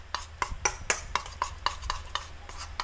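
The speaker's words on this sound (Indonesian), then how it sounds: "Kita aduk sampai benar-benar tercampur." A homemade face-mask paste is stirred in a bowl, with a utensil clinking and scraping against the sides in a quick, regular rhythm of about ten strokes. The sound is close and fairly quiet, with no talking.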